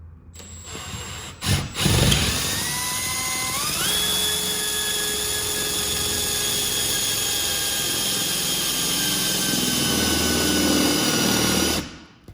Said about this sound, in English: we're going to open them up with a 1/2 inch drill bit to insert the wall anchors into